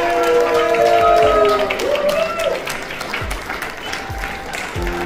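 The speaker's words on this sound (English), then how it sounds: "let's support them with one more round of applause" A closing round of audience applause at a music event, loud clapping with crowd voices that thins out toward the end, while low thumps and a voice carry underneath.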